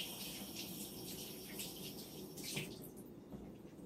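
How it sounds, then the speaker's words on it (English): Water runs from a tap while hands are rinsed in a kitchen during tomato soup cooking, a soft steady splashing stream with a brief louder splash partway through. "Let me rinse my hands real quick."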